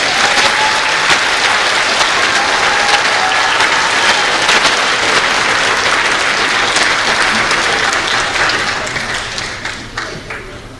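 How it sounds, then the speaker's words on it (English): Teachers standing at a school gathering receive a loud, sustained round of applause from a crowd, dense clapping that continues steadily before starting to taper off at the end. "And let's have a round of applause."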